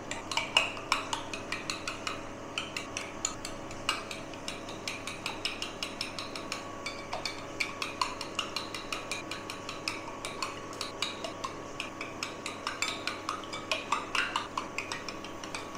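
A spoon mixes chili flakes and spices into eggs in a bowl, making quick, steady clinks and taps against the side that repeat in a fast rhythm for the whole stretch.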